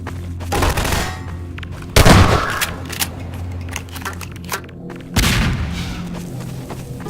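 Shotgun blasts from the Half-Life 2 video game: several sharp, booming shots at irregular intervals, with two or three heavy reports standing out over lighter in-game sounds.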